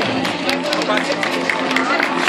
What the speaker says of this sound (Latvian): Aiziet aplausi arī šim dalībniekam.